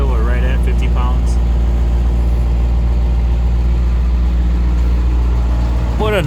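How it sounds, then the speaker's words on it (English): A 2005 International 7.3 T444e diesel engine idling, a loud, steady low rumble with constant clatter throughout at close range, with a brief rise near the end; a voice talks over it. "What a nice running engine."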